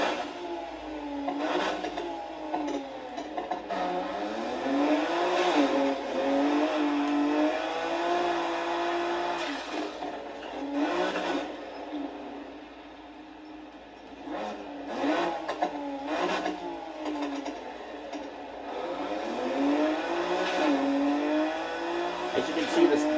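Nissan Skyline, an unfinished work-in-progress build, racing in Need for Speed 2015, its engine revving up and down in repeated sweeps with tire noise, loud and continuous throughout.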